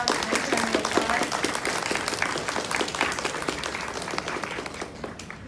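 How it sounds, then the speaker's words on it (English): An audience claps warmly for two panelists at an LGBT-in-Japan convention panel, with a dense, steady patter that fades slightly toward the end, and no speech over it. "Please give them a round of applause"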